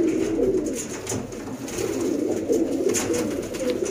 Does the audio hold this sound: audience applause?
no